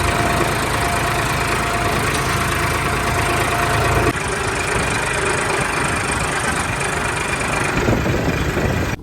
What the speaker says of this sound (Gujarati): તો અહીંયા છે ડીઝલનો આ ટ્રેક્ટર